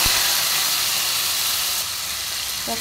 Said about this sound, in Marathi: तेल टाकलं, जिरे, कांदा टाकून घेऊ.